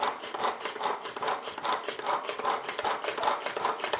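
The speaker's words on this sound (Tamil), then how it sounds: "வெங்காய சாப்பர் வந்து வெங்காயம் கட் பண்ணுறதுக்கு ரொம்பவே ஈஸியாக இருக்குது நைஸாக அது மாதிரி திருவி கொடுத்தோம்" A hand-turned onion chopper cutting onions, a rhythmic grinding and scraping of blades repeating about twice a second, close and steady with no voices.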